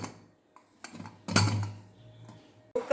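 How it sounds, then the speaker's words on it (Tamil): Pressure cooker lid being closed in a home kitchen while making drumstick sambar, giving a few metallic clanks and clinks, one louder scraping clunk in the middle and another knock at the end, close by with no talk. "நீ குக்கர் மூடியை க்ளோஸ் பண்ணிக்கலாம்."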